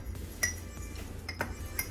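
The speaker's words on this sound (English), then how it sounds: "just keep stirring until it's nice and mixed up, nice and brown" A spoon stirs cake batter inside a mug, giving a few light clinks against the ceramic at uneven intervals over a soft, steady scraping, close and fairly quiet.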